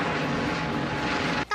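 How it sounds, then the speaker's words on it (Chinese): A search and rescue helicopter works back and forth over a river in Taiwan where campers were swept away after a faulty dam gate opened, giving a steady, loud, broadband rotor and engine roar that cuts off abruptly at the end. "搜救直升机来回搜索"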